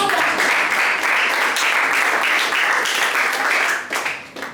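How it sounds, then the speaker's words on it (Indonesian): A class claps for a student group after its presentation, a steady burst of many hands clapping together that holds loud and even, then thins and trails off near the end. "tepuk tangan untuk kelompok 1"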